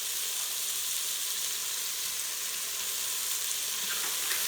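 Mushrooms, onion and garlic sauté in an Instant Pot as brown sugar goes in, giving a steady, dense sizzle that stays close and even from start to finish.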